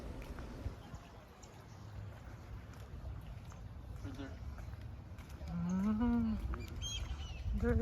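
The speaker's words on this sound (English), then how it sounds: "There is a goat." A goat at a Cayo Coco beach resort bleats in a couple of wavering calls over steady wind and outdoor ambience, moderately close.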